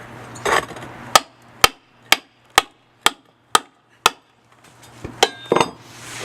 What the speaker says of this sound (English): chisel and hammer